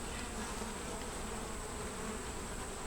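Honeybees swarm over a foundation frame in a four-frame nucleus hive with a yellow queen, giving a steady, close buzzing hum that stays even throughout, fairly quiet, with no talking.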